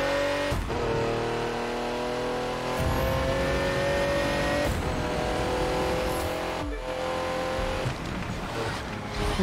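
A Bugatti hypercar in the racing game The Crew 2 is thrown hard into a corner, its engine droning loud and steady with shifting pitch, broken by sharp gear-change drops and brief tire noise, with no talking.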